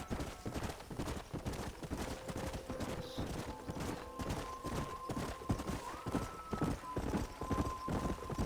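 A horse gallops in Red Dead Redemption, a steady run of rapid hoofbeats with a faint whinny and distant gunfire behind, loud and continuous throughout.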